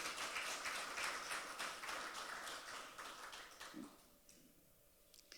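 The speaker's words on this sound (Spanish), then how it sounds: "Dele fuerte el aplauso al Señor en esta mañana." Church congregation applauding the Lord during a Sunday morning service, a sustained wash of clapping for several seconds that gradually thins and fades.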